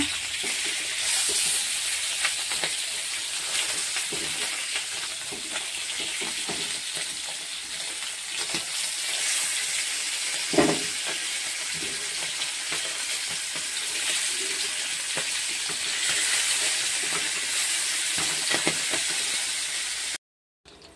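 Tilapia fish frying in hot oil in a home kitchen, a steady close sizzle and hiss that runs the whole time with occasional pops and spatters, no talking, ending in a brief cut to silence.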